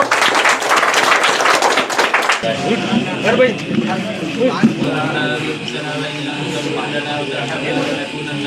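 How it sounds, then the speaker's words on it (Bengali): Audience applause at an Eid reunion gathering held by a community foundation, a dense burst of many hands clapping loudly for about two seconds before giving way to crowd chatter and talk. "তালি আবার তালি"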